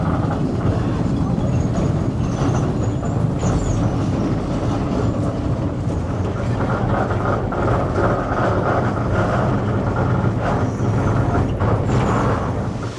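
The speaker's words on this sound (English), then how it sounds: "here we are on the funicular railway" A funicular railway car runs up or down a hillside in northern Portugal, a loud, continuous rumble of wheels and rails with faint squeals and rattles, heard from inside the car.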